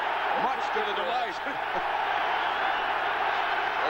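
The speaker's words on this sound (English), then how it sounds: "The crowd is extremely loud." Loud, roaring stadium crowd at the 1985 NFC Championship football game between the Los Angeles Rams and Chicago Bears, a dense continuous wash of cheering noise with broadcast commentary voices running over it.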